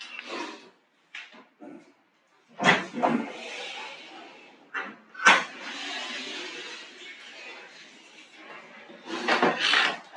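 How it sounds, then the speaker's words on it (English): Clunks, scrapes and creaks of a door being opened in a hot room, several separate knocks and a longer rustling scrape, close and fairly loud with quiet gaps between. "Let me open this door."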